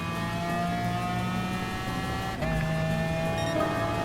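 McLaren F1 race car engine in Gran Turismo Sport at Red Bull Ring, a sustained high whine that holds steady, then shifts pitch with a brief gear change midway before climbing again.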